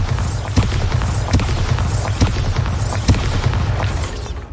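Bombarda spell blasts in Hogwarts Legacy, a continuous loud rumbling roar with four or five heavy booming impacts at roughly regular intervals over a deep low-end drone.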